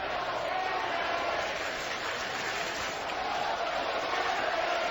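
A baseball stadium crowd of about 22,000 Blue Jays fans at a Toronto versus Seattle game makes a steady, distant wash of cheering and murmur under a radio broadcast.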